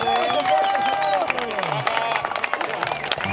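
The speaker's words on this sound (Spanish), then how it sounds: "¡Y el aplauso!" A crowd at a rodeo event in Chamal claps and cheers over loud music, with the applause building in the second half.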